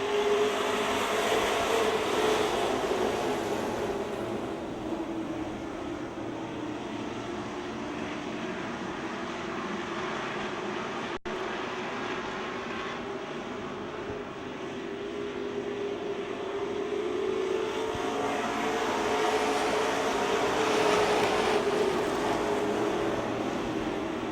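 Race cars roar around the Speedzone track in a steady, sustained engine drone that swells and fades slightly as they pass, loud and continuous with no talking.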